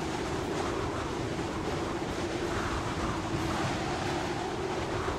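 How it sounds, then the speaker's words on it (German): Steady wind gusting across a bleak mountain landscape in the Kholat video game, a continuous broad whoosh filling the scene at moderate loudness with no talk over it. "Da ist wieder recht windig."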